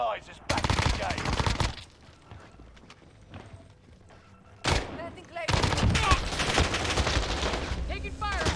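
Call of Duty: Warzone gunfire arrives in loud, dense automatic bursts. The first burst breaks off into a quieter stretch, and then a longer, sustained volley follows close by.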